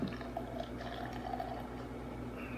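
Milwaukee's Best Ice beer pours hard into a glass, a steady liquid rush with fizzing and a low gurgle running continuously and close throughout.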